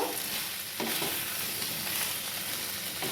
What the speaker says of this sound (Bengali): এবার আমি এক চামচ টমেটো সস দিয়ে দিচ্ছি